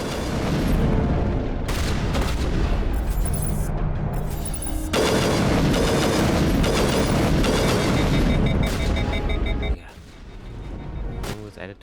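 Loud, dense explosions from rocket grenades in the video game Mass Effect Legendary Edition, a continuous roar of blasts and crackling debris for several seconds before dropping off sharply and trailing into quieter rumbling.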